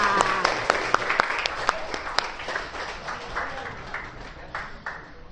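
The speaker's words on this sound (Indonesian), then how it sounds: "Boleh tepuk tangan buat kita semua." Junior high school students in a mathematics classroom clap together: a burst of distinct, fairly close claps in loose rhythm that thins out and fades, with voices murmuring underneath.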